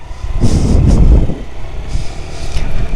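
A heavy vehicle, truck-like, comes along a road on a trek near Cherrapunji's living root bridges. It passes close and loud with a brief air-brake hiss, then fades to a lower rumble as traffic continues.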